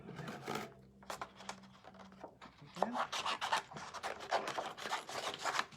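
Scissors cut around paper craft shapes with short, close snips and rustles. A brief low tone sounds early on, and the crisp cutting grows busier and more continuous in the second half.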